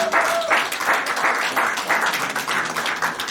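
A congregation at a religious wedding ceremony claps together in rhythmic, evenly spaced bursts, moderately loud and sustained with no talking.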